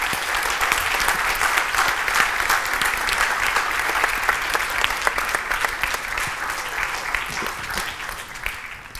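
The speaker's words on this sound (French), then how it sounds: "j'invite tous nos intervenants à venir nous rejoindre sur scène, puisqu'ils méritent un tonnerre d'applaudissements cet après-midi" A conference audience gives the speakers sustained applause, with dense, even clapping from a large crowd that fades slightly toward the end.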